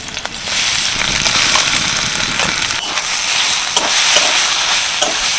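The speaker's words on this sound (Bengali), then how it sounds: "হালকা ভাজা ভাজা হয়ে গেছে এবারে মিক্সি করে রাখা সোয়াবিনটা দিয়ে দিচ্ছি" Minced soybean fries in oil in a wok with cumin and chopped green chilli, a steady close sizzle with scraping stir strokes and occasional sharp clicks throughout, no voices.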